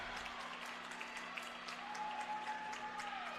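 A crowd applauding at a college volleyball match in an indoor gym, a steady, fairly faint patter of clapping that carries on throughout, with a thin whistle-like tone partway through.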